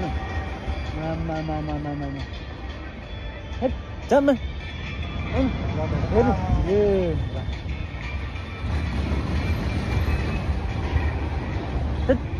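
A small amusement park ride train in a park in Gaziantep, Turkey, rumbles and clatters along with squealing wheel tones, while people talk and shout excitedly over it nearby.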